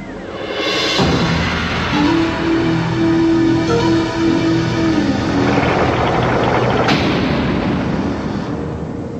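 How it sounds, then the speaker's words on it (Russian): A loud, sustained roaring rumble with a sudden crack near the start, dense and continuous like a powerful blast echoing on, from the animated series Transformers: Beast Wars. "Похоже, там произошел мощный взрыв"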